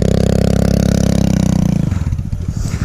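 A dirt bike in fourth gear being bump started by rolling downhill, the engine chugging loudly in rapid close pulses, then catching and sputtering unevenly as the beat breaks up near the end.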